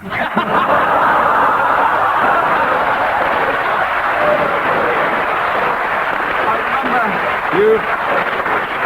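A BBC radio comedy studio audience from 1972 breaks into sustained applause mixed with laughter, a thick continuous wash that holds steady for about nine seconds.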